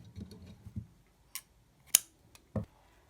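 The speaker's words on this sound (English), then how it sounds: "Chain 1 and cut the yarn." Scissors snip crochet yarn in a few quiet, sharp clicks spaced apart in an otherwise hushed room.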